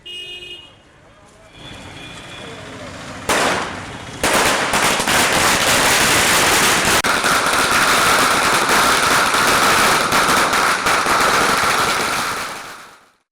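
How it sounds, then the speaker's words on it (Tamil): Firecrackers burst in a rapid, dense crackling barrage outdoors at a political celebration in Karur, starting after a few quiet seconds and continuing loudly until it fades at the end. "அதிமுகவினர் பட்டாசுகளை வெடித்து தங்கள் மகிழ்ச்சியை வெளிப்படுத்தினர்"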